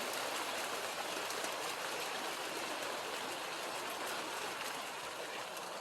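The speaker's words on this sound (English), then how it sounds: "Big rain." Heavy rain pouring onto a small hut during a rice-harvest visit, a loud, unbroken roar of water with no pauses.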